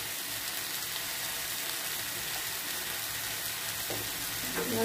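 Ground spices such as turmeric, coriander and cumin sizzle and fry in a pan for soybean curry, a steady close crackle and hiss throughout, with faint kitchen knocks near the end.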